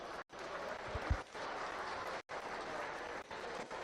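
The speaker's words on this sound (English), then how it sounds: "Let's go ahead and give them another round of applause." A crowd at a livestock show ring claps for a class of gilts in a swine show, a moderate, steady patter with a couple of brief gaps and one louder thump midway.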